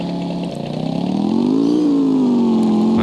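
A motorcycle engine in the mobile game 2 Rodas Brasil idles, then revs up to a loud, steady drone with a slight rise and fall in pitch, heard close and alone.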